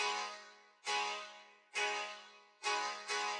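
Honky tonk piano run through a pitch shifter effect that pushes it slightly out of time, playing four loud, struck chords that each decay with a shimmering, detuned ring, closely miked with no voices.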